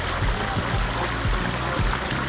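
Small waterfall trickling steadily into a pond inside a bird aviary, a continuous close wash of falling water with soft low splashes throughout.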